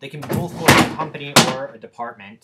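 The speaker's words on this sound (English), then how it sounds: "that's my cat knocking things down." A cat knocking objects over indoors, giving a couple of sharp, loud thumps that cut through steady ongoing speech.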